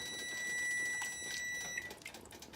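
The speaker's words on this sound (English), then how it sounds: "Oh look, my timer went off." A kitchen timer beeps while potato soup with corn and heavy cream cooks. The ringing is a faint, steady tone that stops after a couple of seconds, with quiet kitchen background.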